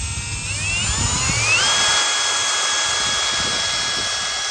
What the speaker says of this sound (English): I'm just keeping light pressure on the drill.